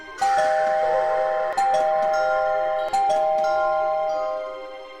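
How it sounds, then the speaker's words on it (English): A doorbell chimes repeatedly, bright sustained tones struck three times in a row, each ringing on before fading out, close and clear. "just as she was falling asleep, the doorbell rang again"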